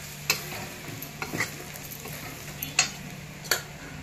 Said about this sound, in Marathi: आता आपण शेंगदाणे टाकून घेऊया। मस्त परतून घ्यायचं आहे।